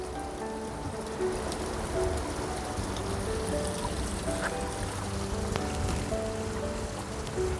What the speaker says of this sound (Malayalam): വെള്ളത്തിൻ്റെ ശബ്ദം കേൾക്കാം കേട്ടോ